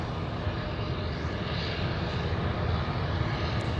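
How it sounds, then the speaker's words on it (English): F-22 fighter jets at Anchorage airport, a loud continuous engine roar that holds fairly even throughout, alone without talk. "I'm pretty sure those are F-22s"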